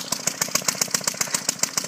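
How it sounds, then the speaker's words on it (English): A two-stroke Evinrude engine on an antique Merry Garden Auto Cultivator garden tractor runs close by with a fast, even popping putter, about seven beats per second, loud and alone. "This has a two-stroke Evinrude engine."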